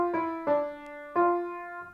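A piano plays a short right-hand phrase for a piece, with distinct struck notes ringing and decaying in turn, clear and close with no talking.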